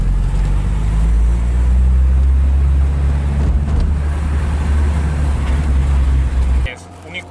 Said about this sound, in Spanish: Estamos dentro del Porsche 944 grabando el Seat Ibiza Cupra